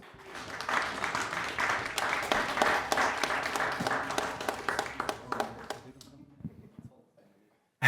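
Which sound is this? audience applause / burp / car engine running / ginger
audience applause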